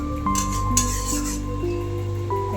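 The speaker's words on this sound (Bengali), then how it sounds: "ভালো করে নাড়িয়ে নেব।" Chicken curry is stirred in a pan over a low, steady hum, with scraping and clinking strokes and a faint sizzle, close up and with no talking.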